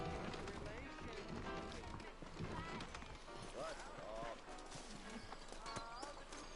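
Video game horse hooves clip-clop in a steady trotting rhythm, mixed with voices talking over the top and a busy background.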